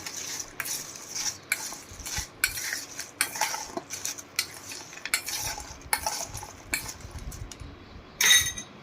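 A spoon stirs chana jor garam ingredients in a dish with red chilli powder and lemon juice, making repeated close metallic clinks and scraping strokes in an uneven rhythm, with no frying behind them.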